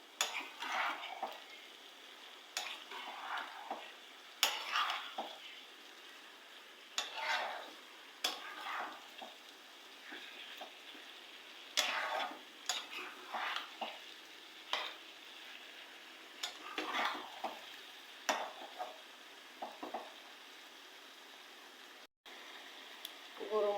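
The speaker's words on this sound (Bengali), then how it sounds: "আমি অ্যাড করতেছি এখানে মরিচ গুঁড়ো। আমি আবারও একটু নেড়ে চেড়ে দিচ্ছি।" Spices with chili powder sizzle softly in a pan as a spoon stirs them in repeated scraping strokes, with light clinks of metal against the pan over a faint background hum.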